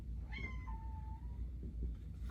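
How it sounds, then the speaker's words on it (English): A pet cat meows once in a room where an algebra lesson is being taught, a single drawn-out call that falls in pitch over about a second and sits over a steady low hum. "My cat says hi."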